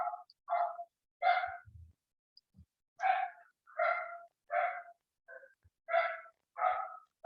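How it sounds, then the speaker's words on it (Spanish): A dog barks repeatedly in a steady series of loud, close woofs with short gaps, some breathy huffs in between and no talk over it. "Ay, Dios, ese perro."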